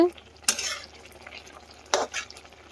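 A spoon scrapes twice through a vegetable curry of radish greens and peanuts in a pan, two short distinct scraping strokes about a second and a half apart over a quiet background.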